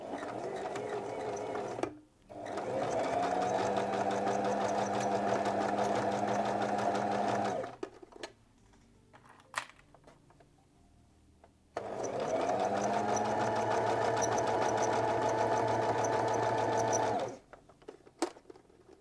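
Domestic sewing machine running a straight stitch through a lined jacket, two long steady whirring runs with a quiet pause between, close and fairly loud, faint clicks and handling in the gaps.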